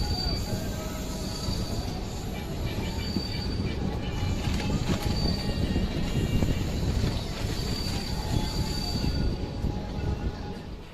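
The 12857 Tamralipta Express, an AC train from Howrah to Digha, rumbles along the rails with a steady, loud roar and occasional faint wheel squeal throughout, holding an even level without pauses.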